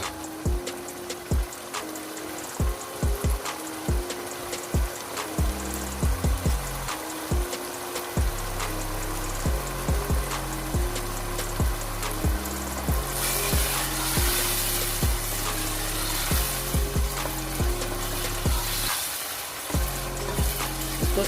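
Masoor and moong dal roasting in a pan, giving a continuous dry sizzle with repeated sharp clinks and scrapes of a spoon stirring against the pan, close and fairly loud, with no talk.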